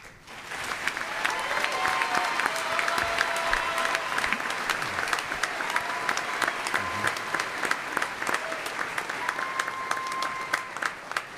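A graduation ceremony audience claps for doctoral graduates, a broad, sustained round of applause from a large crowd that swells quickly and stays steady to the end.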